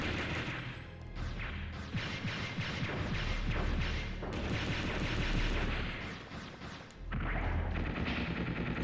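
Machine gun fire and explosions in Mega Man Legends 2, with thick, crashing bursts of rapid shots and booming impacts that swell and dip across several loud waves.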